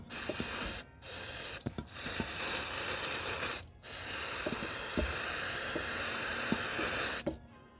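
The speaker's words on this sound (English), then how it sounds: "I'm just gonna clean it a little bit with a brake cleaner to remove any grease" Brake cleaner hisses from an aerosol can onto engine parts in a few long bursts, with short pauses between sprays. The spray sits close and steady, with faint clicks and knocks of handling underneath, during work on an Alfa Romeo 1.4 engine.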